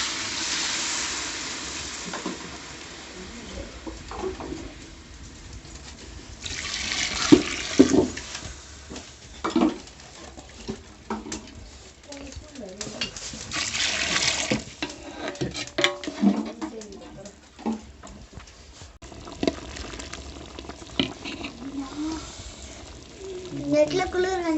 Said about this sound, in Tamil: இந்த காடை வேகத்துக்கு தேவையான அளவு தண்ணி.